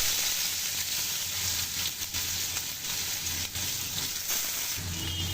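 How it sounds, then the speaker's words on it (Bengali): Chopped onions hit hot oil in a wok and sizzle loudly and continuously, a close, even frying hiss with faint stirring touches. "তেল গরম হয়ে আসছে, এখন দিয়ে দিচ্ছি পেঁয়াজ।"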